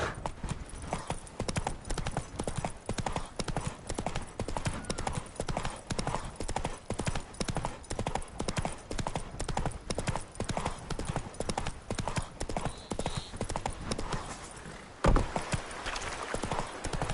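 Roach the horse gallops in The Witcher Wild Hunt, steady rapid hoofbeats clip-clopping close and loud for the whole stretch, with a brief thump near the end.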